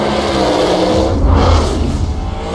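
A car engine in Need for Speed Payback revs loudly with a steady low roar that surges in the middle and then holds.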